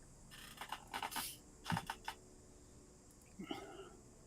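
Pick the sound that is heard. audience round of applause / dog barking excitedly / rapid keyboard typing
rapid keyboard typing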